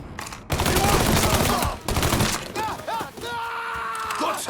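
Rapid gunfire blasts in a Mafia III firefight, dense and loud bursts of shots with breaking and impact noise, then thinning out as voices shout over the game action.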